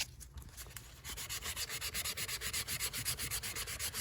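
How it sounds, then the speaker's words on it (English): Worn 300 grit sandpaper is rubbed lightly over an Alden leather horsebit loafer, a quick, even, rhythmic rasping of short close strokes after a brief pause, with no talk. "You don't want to scratch the surface too much, just lightly to get the high spots off."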